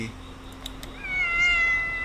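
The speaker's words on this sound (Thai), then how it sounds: "เสียงแมว" A cat meows once, a drawn-out rising and falling call near the end, heard over quiet room background.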